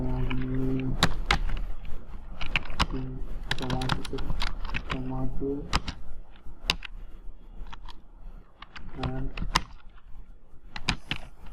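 Rapid, uneven clatter of computer keys as a search is typed, bursts of clicks and pauses over about eleven seconds, close and fairly loud, with a voice talking over parts of it.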